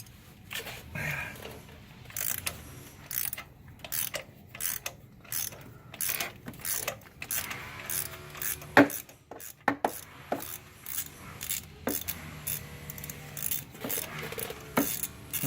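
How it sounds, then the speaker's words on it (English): A ratchet turns a 14mm long socket on an extension to loosen a spark plug on a 2011 Nissan Altima, giving a steady series of quick, close clicking strokes in short bursts. "with the long socket and the extension. Put it in there. Give it a little crank."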